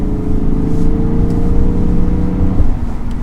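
A 2022 Lexus IS 500 V8 pulls hard from the cabin, a loud, steady low engine drone with smooth rising harmonics sustained throughout and a slight shift in tone near the end.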